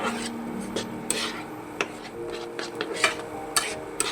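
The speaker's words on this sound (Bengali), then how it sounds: "সব মশলাটা এবার আমি কষে নেবো" Spices are stirred and sautéed in a pan for egg bhurji, with a few sharp scrapes and taps of a spatula against the metal over a quiet sizzle, close by and unvoiced.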